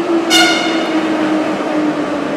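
An EZh-3 metro train sounds its horn as it arrives at a station, a short loud blast near the start fading into the steady rumble of the train.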